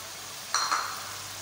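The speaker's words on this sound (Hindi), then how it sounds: "फिर इसको भून लेंगे मसाले को।" Ginger, garlic and green chilli paste frying with masala in a pan: a steady hiss with a brief burst of sizzle and stirring partway through, close and moderately loud, no talking.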